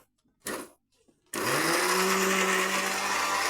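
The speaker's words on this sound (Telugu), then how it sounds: "మిక్సీ పెడదాం ఫ్రెండ్స్" A few soft handling knocks come first, then an electric mixer grinder blending cooked gongura leaves kicks on with a sudden loud whir. Its steady, close motor roar holds without voices.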